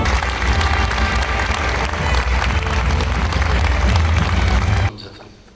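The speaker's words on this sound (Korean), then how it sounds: "다 같이 박수 한 번만" A conference audience at a Korean business administration academic meeting in Gyeongju breaks into loud, dense applause with some cheering. It holds steady for about five seconds, then cuts off abruptly and leaves quieter room noise.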